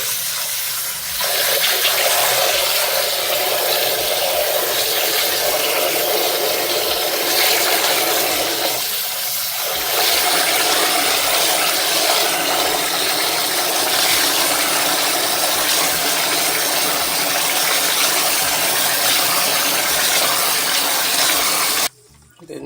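Bulgur rinsed under a running tap, with a steady, loud gush of water that continues almost without a break, one brief dip partway through, then stops abruptly near the end.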